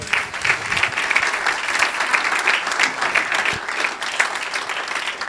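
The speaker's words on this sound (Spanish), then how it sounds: "Dele un aplauso al Señor." A church congregation claps together during a Spanish-language sermon, producing dense, steady applause that stays loud and continuous throughout without any voices.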